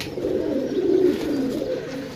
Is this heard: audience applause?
no